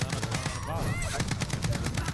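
Rapid automatic gunfire from the Call of Duty: Warzone video game, a dense stream of loud close shots with a voice briefly heard underneath.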